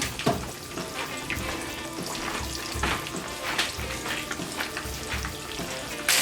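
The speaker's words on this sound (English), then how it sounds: "put it in your hot grease. Alright, you're going to cook that till that fish starts floating around" Fish frying in hot grease, a loud continuous crackling sizzle with bubbling pops throughout, no talking.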